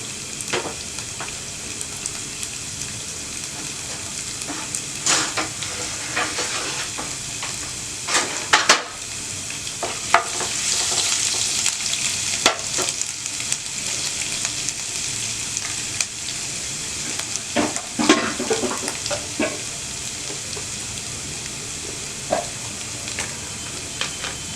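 Garlic and ginger sizzle steadily in hot oil in a pan, with a continuous loud crackle and scattered spatters and stirring clatters throughout, no voices.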